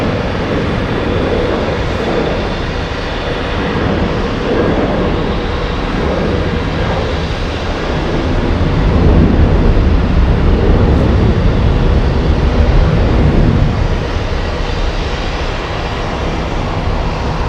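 An Aer Lingus plane from Dublin rumbles loudly through a go-around at Boston Logan, its engine roar holding steady, swelling stronger midway, then easing slightly.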